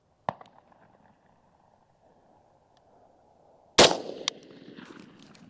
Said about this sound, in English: I'm standing up shooting at 200, so I may not hit it, but I can see it.